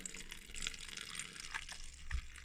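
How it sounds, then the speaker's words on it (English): Dirty cleaning water from servicing a 1973 Seiko 5 watch being tipped back into its container, a faint, close trickle and splash with small drip accents, no talking. "I'm going to tip all that back into the container that I got the water from."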